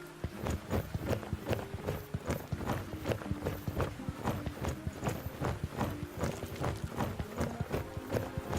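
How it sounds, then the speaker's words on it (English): Horse and pony hooves clip-clop in the stables of the video game The Dwarves, a steady, close, rhythmic patter of many hoofbeats continuing without pause. "You see some good horses and ponies in the stables."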